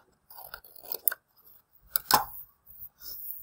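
Scissors make a few short, close snips and crunches cutting paper for a layered mountain and garden craft, with quiet pauses between the cuts.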